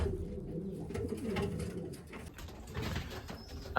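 Racing pigeons coo steadily at close range in a loft, soft layered calls overlapping throughout with a few rustles and wing movements.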